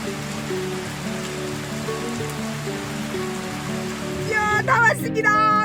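Heavy rain pours down in a dense, steady wash, like a downpour drumming on a vehicle over a low engine hum, with a voice breaking in near the end.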